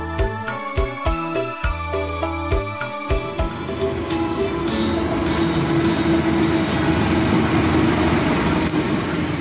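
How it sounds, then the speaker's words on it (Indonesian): The Sawung Gali passenger train, hauled by locomotive CC20307, pulls into Cirebon station: a loud multi-tone horn blares in rhythmic bursts, then gives way to a steady rumble and clatter of rolling carriages. "Kereta api Sawung Gali yang akan saya naiki akhirnya tiba di stasiun Cirebon."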